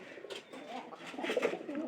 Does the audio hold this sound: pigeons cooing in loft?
yes